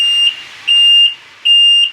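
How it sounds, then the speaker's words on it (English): A golf cart's high-pitched electronic reverse beeps repeat three times in a steady rhythm, loud and close, each tone held for about a third of a second with short gaps. "I still had to get that reverse beeping turned off"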